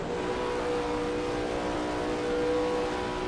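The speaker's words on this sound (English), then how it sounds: "the roar of the engine" A Lola T70 MkII Spyder race car engine roars in a racing video game at Imola, a steady, sustained roar with a constant whine, held at high revs, continuous and fairly loud throughout.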